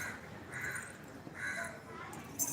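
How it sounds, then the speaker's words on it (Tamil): A crow caws a few times in the distance, harsh repeated calls over a faint background murmur. "காக்கா கத்திக்கிட்டே இருக்குது"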